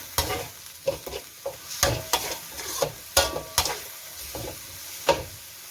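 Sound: stir-frying squid and minced pork with fish sauce and sugar

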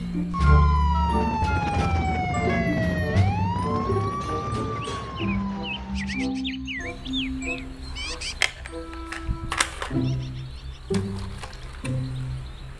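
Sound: toy police car siren

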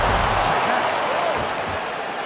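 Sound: crowd chanting at an MMA fight

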